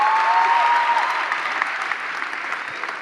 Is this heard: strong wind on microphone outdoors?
no